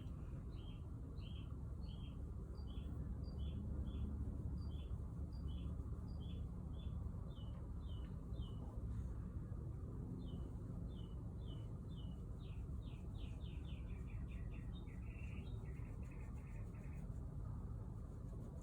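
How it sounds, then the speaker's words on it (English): Birds chirp and sing in repeated short notes over a steady background hum, faint and distant, with quickening trills toward the end. "I don't know if y'all can hear in the video the birds outside."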